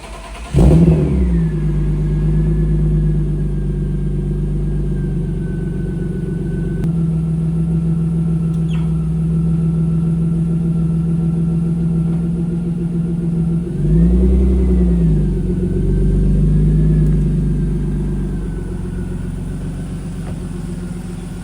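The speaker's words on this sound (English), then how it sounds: "little cold start for you guys" A BMW E36 M3 engine cold-starts with a sharp crank and catch, then settles into a steady, loud, close idle, with one brief rev rising and falling partway through.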